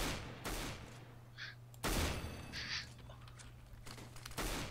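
CS:GO video game gunfire: several sharp bursts of shots break in, separated by quieter gaps. The reports are loud and close, with faint game sounds between them.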